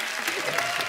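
A TV comedy show studio audience applauds a debut guest, a brief dense burst of clapping with a voice briefly over it.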